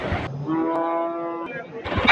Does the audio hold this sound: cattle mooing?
yes